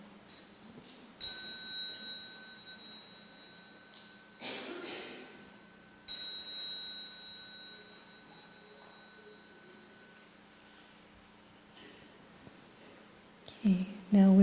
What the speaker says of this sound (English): with the next sound of the bell, we can stand up to face the Sangha